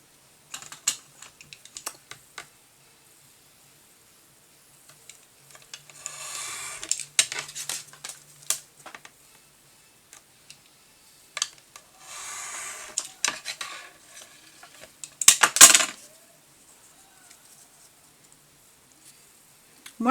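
Scissors cutting out a small paper label for a Cosy Forest ring-bound junk journal, giving irregular close snips and rustling paper in bursts with quiet pauses, without any talk.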